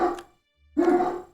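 Barks from a single voice, two short separated bursts. The rest of the clip is quiet, and the sound fits a human voice imitating a dog in EU4 rather than real dogs.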